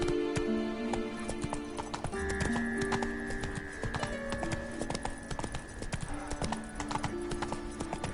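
Horse Roach galloping in a video game, rapid steady hoofbeats carrying on without a break over layered game music tones.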